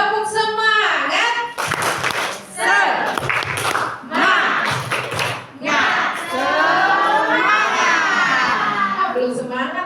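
A classroom audience of elementary school children performs a rhythmic clapping chant, with bursts of shouting and claps interleaved with a voice leading, loud and close, voices overlapping throughout.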